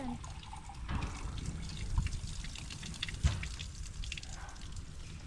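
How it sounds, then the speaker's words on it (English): Water from a windmill-driven well pump runs into a hand pump and drains down toward a tank on an Oklahoma farm, a soft steady trickle and splash with occasional knocks and clanks, no talking. "see water coming into the hand pump, going down, going to the tank"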